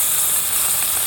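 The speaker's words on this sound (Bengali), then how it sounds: "মাছগুলোকে আমি এখন ভেজে নেব" Bata fish frying in hot oil for a Bengali curry, a steady loud hiss and sizzle with no break and no talk over it.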